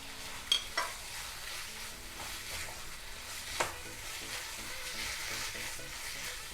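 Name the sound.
mushroom slices frying in masala in a pan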